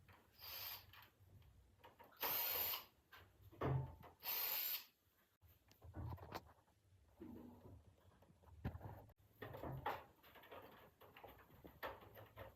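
Plastic front cover of a split AC indoor unit unclipped and lifted off, a series of close clicks, snaps and rattling knocks in irregular bursts, with quiet gaps between them.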